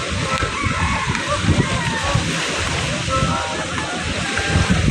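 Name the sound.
big waves splashing against boats in Manila Bay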